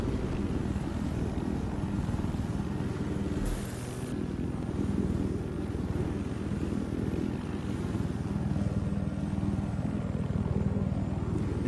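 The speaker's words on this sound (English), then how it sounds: "We've already got one friendly chopper in that area" Helicopter flying in a military video game, a steady rotor and engine drone that holds a constant level throughout with no talking.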